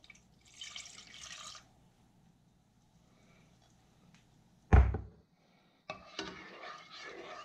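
Red wine vinegar splashes into a pot on a high burner in a single short, close pour, bracketed by softer hiss-like sounds.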